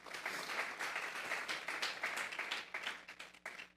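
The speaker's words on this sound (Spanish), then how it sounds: "Vamos a darle un fuerte aplauso, pues, al Señor esta tarde." A church congregation gives a loud round of applause during an evening service, with dense, steady clapping at close range that tapers off near the end.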